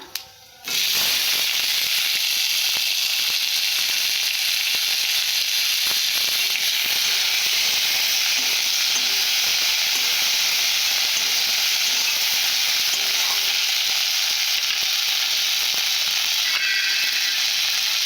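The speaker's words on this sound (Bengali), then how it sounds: "গোটা জিরে দেব ভালো করে ভেজে নেব এরপর পেঁয়াজ দেব তার সঙ্গে টমেটো" Whole cumin, onion and tomato fry in a pan, giving a loud, steady sizzle with a broadband hiss. It runs without a break through nearly the whole stretch, with small crackles and stirring clicks, and no one speaks.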